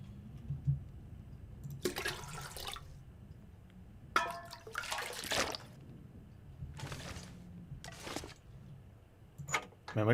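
Water sloshes and gurgles in a series of short, separate bursts while drinkable water is collected in The Long Dark, each splash close and distinct over a low, quiet background.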